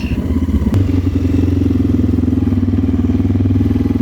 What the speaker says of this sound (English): Pull in the clutch and apply your rear brakes and kill the engine